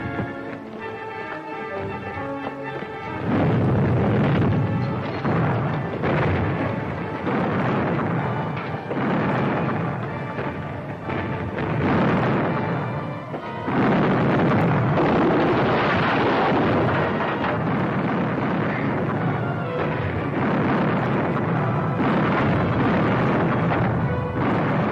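Ship cannons fire in a 1953 pirate film, a series of heavy booms and rumbling blasts in waves, loud and close, mixed with battle din.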